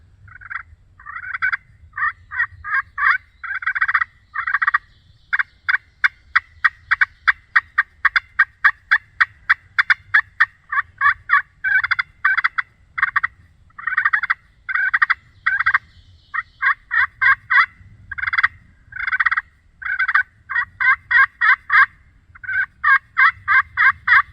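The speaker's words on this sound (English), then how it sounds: "There's a gobble. That was a gobble down in there." A wild turkey gobbles repeatedly on a hunt, loud rattling gobbles coming in clustered bursts over a steady low outdoor rumble, with no talk.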